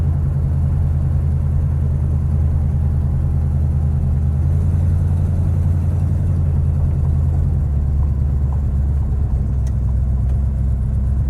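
A 1971 Plymouth Road Runner in Sassy Grass green on a test run, its engine a loud, steady low rumble that drops in pitch with a shift change partway through, heard from inside the car with no talk.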